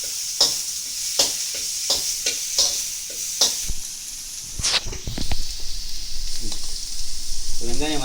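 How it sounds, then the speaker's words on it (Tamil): Chopped onions and tomatoes sauté in a pan for a fish curry, with a scraping spoon stirring in a series of quick strokes over a soft sizzle, then a steadier frying hiss. "நான் நல்லா வெங்காயம் தக்காளி 2த்தையும் பொடிசாக நறுக்கி நல்லா ரொம்ப நேரம் வதக்கணும்."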